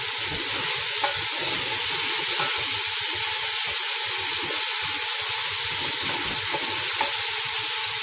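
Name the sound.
sautéing green peas, potatoes and carrot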